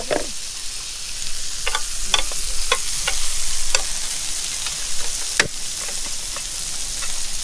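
Steak scraps sizzle in a pan while being stirred into kimchi rice, a steady hissing fry broken by repeated scraping and clinking of a utensil, close and loud.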